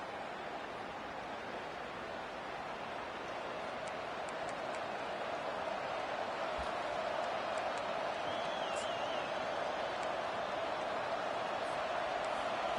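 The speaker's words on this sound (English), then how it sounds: "Listen to the crowd energy here" A stadium crowd at a Penn State football game makes a broad, steady roar that holds evenly throughout, sounding distant and washed out, with a few faint higher sounds and no clear speech on top.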